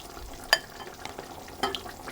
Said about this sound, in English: I'm going to put my beef in, and I'm simply going to cook that